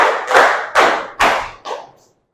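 Four loud, evenly spaced hand claps ring out in a classroom ice-breaking game, each crisp burst close by, followed by silence.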